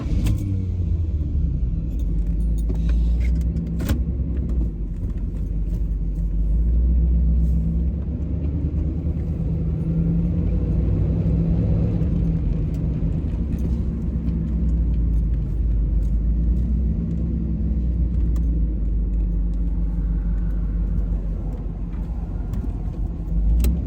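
A T-top car driven for the first time after six months of winter storage, roofless on a fine day: a steady low engine rumble and road noise from inside the cabin, with occasional rattles and no talking.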